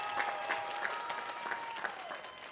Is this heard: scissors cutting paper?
no